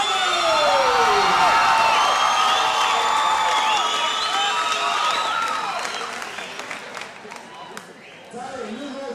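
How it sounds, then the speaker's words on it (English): A crowd at a cage fighting competition applauds and cheers for both fighters, a loud, busy roar with whoops and shouts that swells and then gradually fades, while voices carry over it. "Ladies and gentlemen, a big round of applause for both of these fighters."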